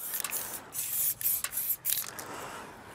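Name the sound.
spray paint coming out of a spray can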